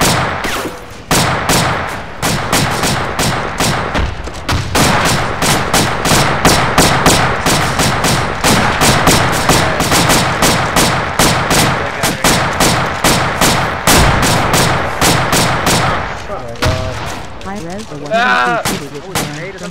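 Sustained gunfire in ARMA 2, a military video game, with dense rapid shots and heavy booms from a big gun cracking close and loud for nearly twenty seconds, thinning toward the end as a voice talks.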